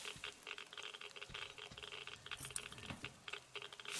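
Light, quick patter of rain falling in the video game Metro Exodus, soft and irregular with scattered ticks and drips, no talking.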